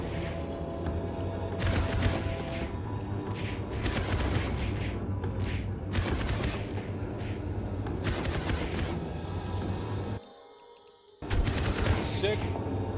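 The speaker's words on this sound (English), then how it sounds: "Bro is shooting pretty fast now." Rapid video-game gunfire rattles in dense repeated bursts over a busy game soundtrack, staying loud throughout apart from a brief drop to quiet about two-thirds of the way in before the shooting resumes.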